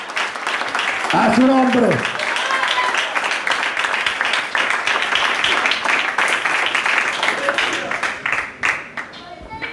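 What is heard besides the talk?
congregation clapping hands in church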